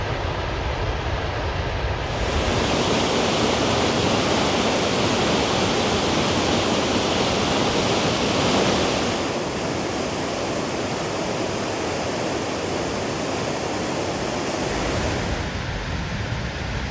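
Waterfall in the Simmental valley of Switzerland, a steady loud roar of rushing water that swells in after a couple of seconds and holds broadband and constant throughout, with no voices.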